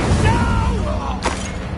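A fire spell blast in Hogwarts Legacy lands as a single sharp, bursting whoosh partway through, over a steady low rumble, with a voice speaking briefly beforehand.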